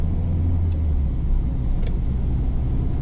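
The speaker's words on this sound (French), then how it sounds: "Là j'accélère, je dynamise bien mon allure." A car accelerates on a road toward Bordeaux during a heatwave, a loud, steady engine rumble and road roar heard from inside the cabin, with a couple of faint clicks.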